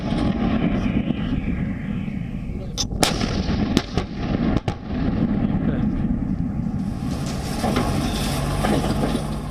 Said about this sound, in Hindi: एक बार तोपों की तैनाती हो गई तो कमान पोस्ट के आदेश पर फायर शुरू हो जाते हैं